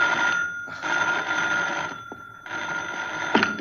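An old telephone bell rings in two long bursts with a brief pause between, loud and close, followed by a faint click as the receiver lifts.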